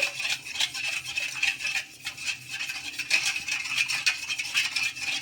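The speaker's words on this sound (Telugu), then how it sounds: "చక్కెర వేసుకొని ఒకసారి బాగా కలిపేసుకోవాలి" A spoon stirs milk and sugar in a bowl, making quick, continuous light clinking and swishing strokes, close and rhythmic, with no voices.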